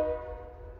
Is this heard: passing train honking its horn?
yes